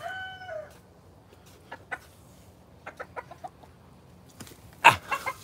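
A rooster with an injured eye clucks and calls close by outdoors, a brief crowing note at the start, then scattered short clucks and a sharp loud squawk near the end.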